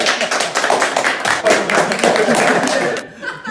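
Studio audience applause at a Turkish TV show's season-finale gathering, a busy burst of clapping mixed with chuckles and laughter, with voices talking over it before it cuts off near the end.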